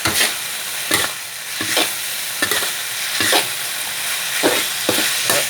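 Minced pork frying in oyster sauce and dark soy sauce in a hot pan, stirred in loud, close scraping strokes about once a second over a continuous sizzle.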